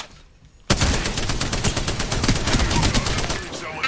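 Spitfire light machine gun firing in the video game Apex Legends, a sudden loud sustained automatic burst of rapid shots that carries on to the end.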